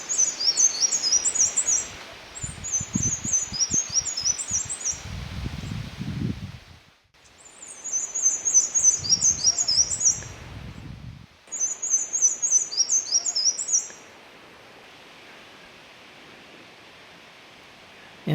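A black-and-white warbler sings its dawn song in short bursts of high, thin, rapid notes, repeated several times with pauses, over faint outdoor rustling and low background noise.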